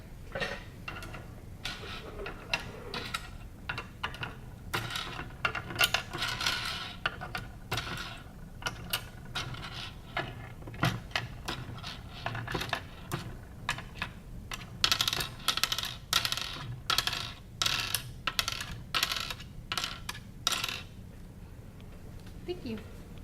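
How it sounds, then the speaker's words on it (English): Small pegs are placed into and pulled from a 9-hole peg test board, giving a busy stream of light clicks and taps close by, denser toward the end, over a soft background hum. "Place them in the holes until all 9 are filled, and then remove them all one at a time"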